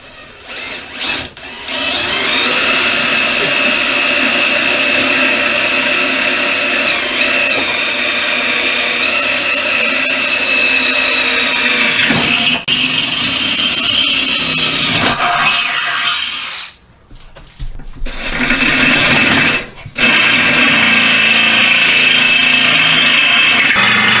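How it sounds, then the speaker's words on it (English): A power drill bores into a metal upper rear control arm from a 1999-2004 Jeep Grand Cherokee for a grease zerk, with a loud, sustained whine close up that pauses briefly and then resumes. "I'm going to take it back out now and we'll drill it for this grease zerk"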